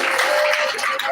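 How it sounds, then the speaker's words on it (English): A brief burst of dense applause, many hands clapping together at close range without pause. "Let's clap for them."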